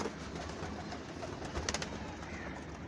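Pigeons in a loft of Ferozpuri birds, males and hens kept as pairs, give faint low coos against a steady hiss of background noise, with a brief cluster of sharper sounds partway through.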